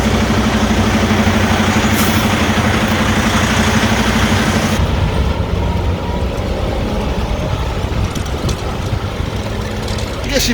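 A semi truck's diesel engine rumbles loud and steady as it backs in, with a droning hum in the first half that then shifts to a rougher, broadband noise.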